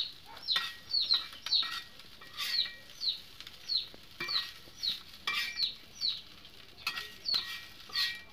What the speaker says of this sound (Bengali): দেখো খুব সুন্দর ভাজছে মাছটা